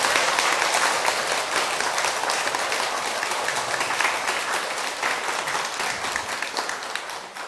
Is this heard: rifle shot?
no